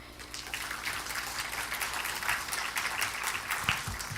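Conference audience at a health-technology event clapping steadily after a talk, a dense, even patter of many hands at moderate distance, heard alone.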